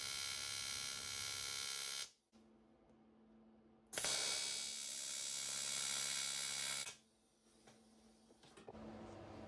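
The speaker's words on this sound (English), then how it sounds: "I get straight on with the welding to weld the 2 blocks in place while the crankcases are still really hot." Welding on hot Kawasaki S1 motorcycle crankcases, fixing two blocks in place: loud, close crackling buzz in two long bursts separated by a short pause, with a quieter hum following.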